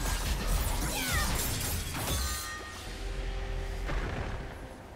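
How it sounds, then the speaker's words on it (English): A turret is destroyed in League of Legends with a loud shattering crash and booming impact, followed by lingering debris and a mechanical rumble that fades out. "Blue team's turret has been destroyed."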